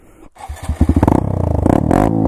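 A Honda Grom motorcycle with its exhaust bouncing off the number plate and crash protection starts up close and loud, then settles into a rapid, steady pulsing idle that rises slightly at the end.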